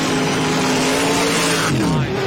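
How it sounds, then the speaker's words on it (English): A drag race car at a Sick Summer 2024 event finishes its run at 151 mph with the parachute out, its loud engine roar sustained and close throughout, then tapering slightly near the end. "Goes 897 at 151 for Dino's ride with the parachute out"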